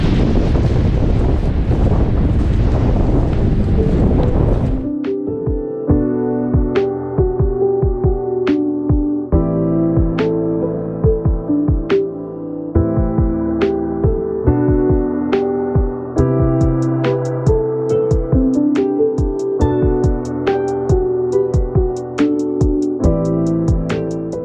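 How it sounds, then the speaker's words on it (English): Strong wind roars and buffets the microphone for the first few seconds, then gives way to music with a steady beat. "it's so windy."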